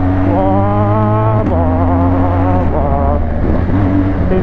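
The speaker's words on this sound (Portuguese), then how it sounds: "além dela trocar de marcha sem embreagem, ela dá esse pipoco na hora da troca" A motorcycle with an uncorked exhaust shifting gears without the clutch, a loud continuous engine roar with rising revs, broken by brief pops and drops in pitch at each quick gear change.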